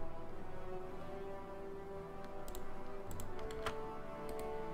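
Keystrokes on a computer keyboard, a few sparse light clicks scattered over a steady low electrical hum, quiet and close, with no speech.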